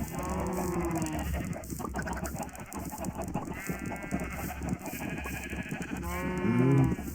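A herd of cows in the Minecraft video game moos repeatedly, with several overlapping, drawn-out calls close by, one swelling louder near the end.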